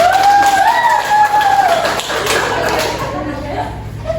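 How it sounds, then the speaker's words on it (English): A class of children claps in a micro-teaching lesson, scattered taps and hand claps running under a voice talking over them, fairly close and steady. "Give applause to children."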